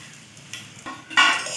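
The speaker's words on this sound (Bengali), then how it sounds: "এটিকে আমরা হালকা আঁচে কিছুক্ষণ নাড়তে থাকবো।" Sweet vermicelli mixture is stirred in a pan over low heat, giving soft scraping strokes and a few brief clinks that build louder toward the end.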